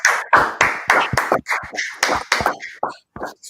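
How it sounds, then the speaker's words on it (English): An audience claps in rapid, uneven bursts of sharp hand claps, loud and close, fading toward the end with brief gaps. "clap it up"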